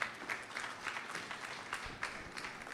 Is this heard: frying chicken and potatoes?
no